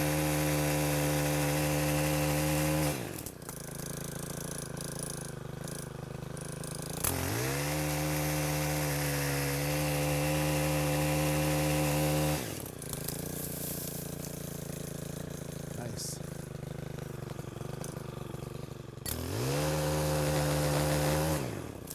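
A motorized pole saw cutting tree branches, its engine droning loudly and steadily, with pitch dips as the blade bites into the wood in repeated cuts over about twenty seconds.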